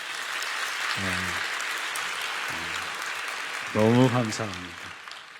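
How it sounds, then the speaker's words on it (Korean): Church congregation applauding the choir during a holiday sermon, a broad steady wash of clapping throughout with someone speaking briefly over it. "우리 박수로 한번 격려해 드릴까요?"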